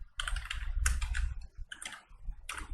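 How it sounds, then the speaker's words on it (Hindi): A computer keyboard is typed on in several quick bursts of clicky keystrokes, close and fairly quiet, separated by short pauses, with no talking. "ट्यूबलाइट टाइप करता हूँ"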